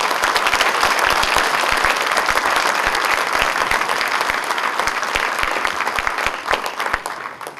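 A lecture audience gives the speaker a rousing round of applause, loud and sustained clapping from many hands with sharp individual claps standing out, continuing steadily throughout.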